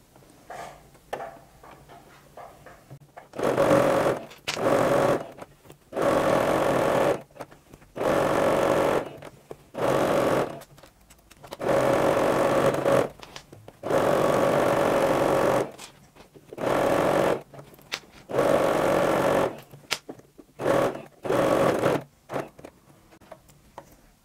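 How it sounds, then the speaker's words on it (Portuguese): A sewing machine stitches fabric for a sack-style backpack, running in repeated whirring bursts of a few seconds each, separated by short silent pauses, close and clear with no talk. "na parte de cima, vamos passar um pezinho de máquina"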